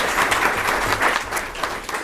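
Audience applause at a League of Women Voters candidates night: a dense, steady patter of many hands clapping in a hall, fairly loud and continuous, with no one speaking.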